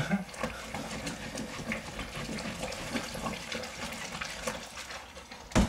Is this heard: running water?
yes